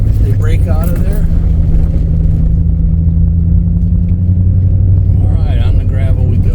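A car rolls onto a gravel road on the way to a rural Missouri farm, with a steady low engine and road rumble running throughout while people talk inside the vehicle.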